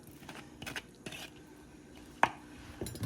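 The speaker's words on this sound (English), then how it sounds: "I'm going to go ahead and stir this up" Spoon scraping and clinking against a pot while a thickener is stirred into homemade chicken and dumplings, a few soft strokes and one sharp knock, close up and quiet with no talk.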